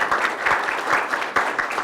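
Audience applause at a school district and university news conference, a steady wash of many hands clapping with no voices, fairly close and even in loudness for under two seconds.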